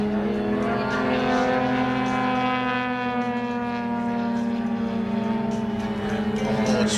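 Decathlon aerobatic light plane with onboard smoke flying past at an airshow, a loud steady buzzing piston-engine drone with rich harmonics and a slight pitch shift, close and sustained throughout, no talking.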